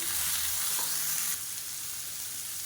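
Onion, green chilli and tomato sauté in a pan for a small-onion chutney, with a loud, continuous hiss and sizzle that drops slightly partway through as stirring continues close by.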